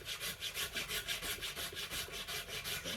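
Steady back-and-forth scraping of a tool across a yew bow limb, taking down high spots while floor tillering, each stroke a rhythmic rasping pass repeated about every quarter second, close and alone with no talk.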